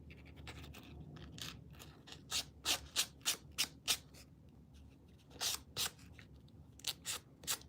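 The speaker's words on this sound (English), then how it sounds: "Just sanding the edges with 240, I think." Short, rhythmic rasping strokes of 240-grit sandpaper against the hard plastic edge of a model car window, close up, coming in bursts with brief pauses between them.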